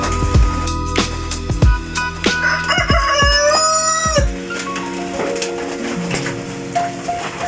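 Farm chickens, including Plymouth Rock and Rhode Island Red birds, cluck close by while a rooster lets out a loud, drawn-out crow midway, with more clucking after it.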